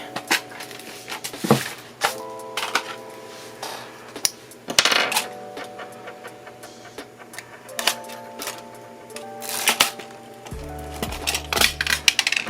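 Gold paper clips spill and scatter in bursts of small metallic clinks and rattles across a surface, fairly close, with quiet pauses between clusters.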